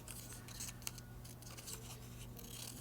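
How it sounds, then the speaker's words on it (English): Scissors snipping through paper to cut out letter shapes, a steady run of soft crisp cuts and rustles close by, with one sharper snip standing out partway through and no talking. "I'll cut out some more challenging letters"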